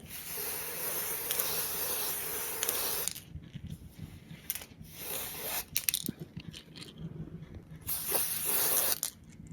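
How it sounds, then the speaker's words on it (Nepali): Close, hissing bursts of aerosol sunblock spray: a steady stream for about three seconds, then several shorter, sharper sprays with quiet gaps between them. "म चाहिँ सनब्लक स्प्रे हाल्न लाग्यो"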